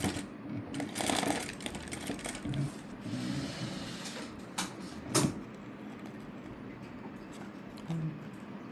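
A sewing machine stitches pieces of a cutwork blouse in short, uneven runs, its rattling whir starting and stopping with a few sharp clicks in between, fairly quiet and close by.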